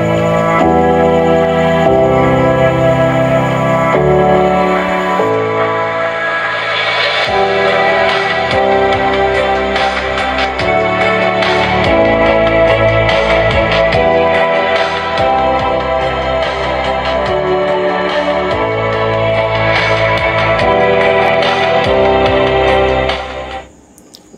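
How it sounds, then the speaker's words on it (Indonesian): Steady music with a full mix plays continuously through a loudspeaker with a newly replaced voice coil for about twenty seconds, then cuts off at the end. "Kita coba pakai musik ya, suara yang lain."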